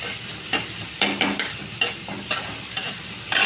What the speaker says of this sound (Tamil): வெங்காயம் போட்டாச்சு. வெங்காயம் நல்லா வணங்கட்டும்